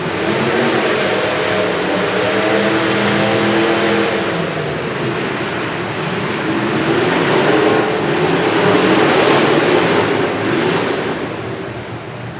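Heavy race car engines rev hard and continuously while wheels spin and dig into deep mud at a dirt track, a loud steady roar that swells and dips with throttle for the whole stretch.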